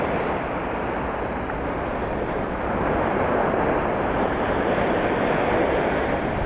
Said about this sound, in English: So we've got quite a breeze coming in off the shore now